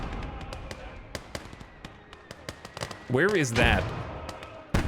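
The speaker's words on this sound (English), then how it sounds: "That's their mortar right there." An 82mm BM37 mortar fires in a war video game among scattered sharp bangs and pops, with a loud burst of blasts near the end while voices talk over the action.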